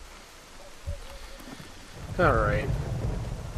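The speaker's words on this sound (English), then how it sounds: "Maybe it was just the rain." Steady rain with rolling thunder from the S.T.A.L.K.E.R. Call of Pripyat game (Misery mod), a continuous wash under a brief spoken word, with a deeper rumble swelling near the end.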